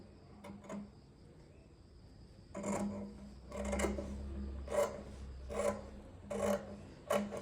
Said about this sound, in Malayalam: അതിന് മുന്നേ തന്നെ ഞാൻ ലൈനിങ് കട്ട് ചെയ്ത് മാറ്റുവാണ്